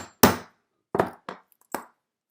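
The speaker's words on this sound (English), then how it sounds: "you're going to do about 2 taps, even for this hole punch" A handheld hole punch tapped through a notebook cover for a regular-size traveler's notebook: one sharp knock, then three quicker taps spaced apart, close and clear with no talking.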